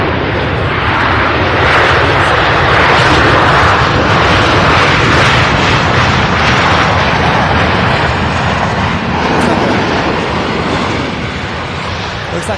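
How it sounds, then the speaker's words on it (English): An American Airlines Boeing 737 MAX 8 airliner at Louisville's SDF airport gives a steady, loud broadband jet roar that holds for the whole stretch, easing slightly near the end. "Looks like a 737 MAX 8 American Airlines"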